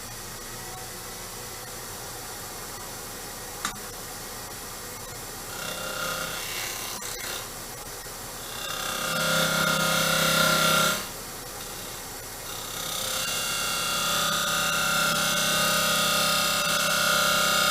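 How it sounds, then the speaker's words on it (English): A 1/2 inch spindle gouge cuts a wooden staved box on a lathe: a steady rasping scrape over the spinning hum, swelling louder in stretches and easing between passes. "because this is actually spindle turning orientation, I'm going to use my 1/2 inch spindle gouge."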